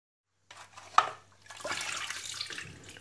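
Fresh mint leaves are rinsed under running water: a short splash and clatter, then a steady, soft stream of tap water pouring and trickling nearby, fairly quiet and without talk.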